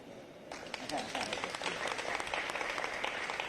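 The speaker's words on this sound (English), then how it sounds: "That's where you clap." Audience applause fills a hall after a new arena in Savannah is named Enmarket Arena: dense, steady clapping that swells in about half a second and stays loud, with a voice speaking over it.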